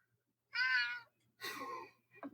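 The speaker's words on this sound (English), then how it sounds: "playing meow sounds like they're kitty cats" A recording of cat meows plays back: two distinct, clear meows followed by a brief shorter cry, fairly close and quiet, with no talking over them.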